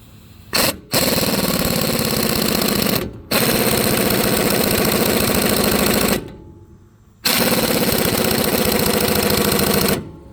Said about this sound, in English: technically you're not supposed to use impact on the ball joint press.